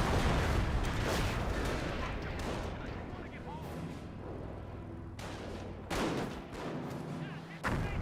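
A Panzerfaust fires amid gunfire in Company of Heroes, with sharp bursts and heavy booms striking repeatedly over a rumbling battle bed. A commentator talks over the action.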